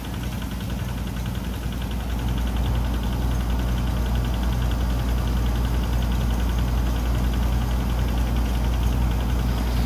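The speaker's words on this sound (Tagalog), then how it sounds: "Ang ginagamit ko pong spray ay power spray." A Kawasaki power sprayer's small Robin engine runs steadily with a droning hum and buzzy vibration, continuous and fairly loud throughout, with no voices.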